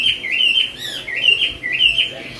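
A wambi songbird sings a continuous, lively run of bright warbling phrases, loud and close, with steady background hiss and no voices.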